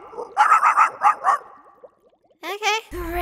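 A dog gives a quick run of five or six sharp yipping barks, then falls quiet before a burst of other voiced sound and a low tone at the end.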